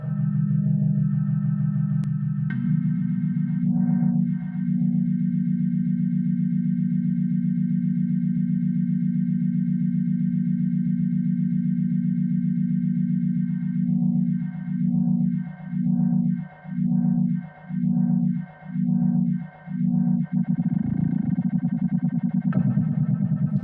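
A synth tone passing through a notch filter in Ableton Simpler, swept by the built-in LFO: a sustained buzzy drone whose sweeping notch produces a rhythmic whooshing wobble that slows, pauses, then returns faster, with no talking.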